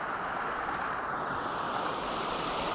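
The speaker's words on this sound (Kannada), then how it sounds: "ಇಲ್ಲಿದ್ದ ನೀರು ಹರ್ಕೊಂಡು ಹೋಗ್ತಿದೆಯಲ್ಲ, ಇದು ಫಾಲ್ಸ್ಗೆ ಹೋಗಿ ಬೀಳುತ್ತೆ ನೀರು ನೋಡಿ" Stream water at Banagara Kusuma waterfall rushes in a steady, loud, broadband wash with no break, close to the microphone and alone, with a slight windy hiss.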